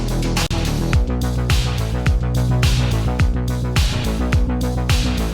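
A synthwave bass line runs in a driving sixteenth-note pattern, choppy at first then with some notes stretched longer for extra power, under steady punchy drum hits, loud and without talk.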